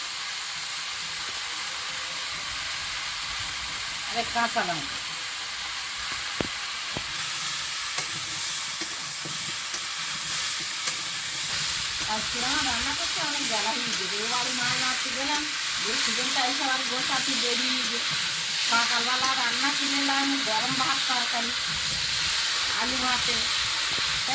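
Onions and tomatoes fry in a pan for a mrigal fish curry, a steady hiss and sizzle running throughout while someone talks over it.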